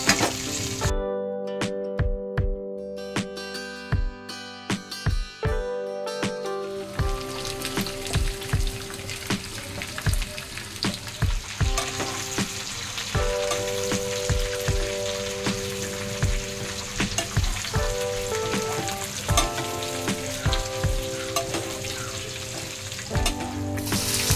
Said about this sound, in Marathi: त्याला चांगलं परतवून घ्यायचं. जास्त वेळ नाही, थोडा वेळच परतवून घ्यायचा आहे.